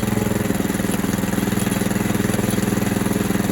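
A DTZ 470B walk-behind tractor engine runs in gear with a steady, loud, rapid chugging throb at an even pace, close by, with no talking.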